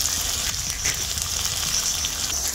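Garlic, ginger and dried red chilli paste frying in a pan of hot oil while cooking a curry-leaf chicken curry, giving a steady, close hiss and sizzle with no voices.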